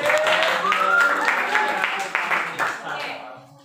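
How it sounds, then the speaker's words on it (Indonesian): Classroom applause from a group of students, a steady burst of clapping that fades gradually toward the end, with some voices mixed in. "Masa tepuk tangan untuk kalian semua."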